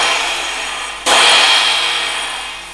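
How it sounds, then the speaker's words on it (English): FX crash cymbal struck once after a fading previous ring, a loud, close, bright trashy crash that then decays slowly over a couple of seconds, no voices. "the FX cymbal sounds something like this."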